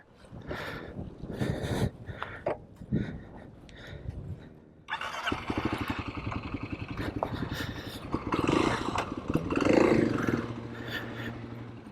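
A Kawasaki KLX 300 dirt bike idles roughly, then revs up and roars away. The engine note rises and swells loudly before easing off a little near the end.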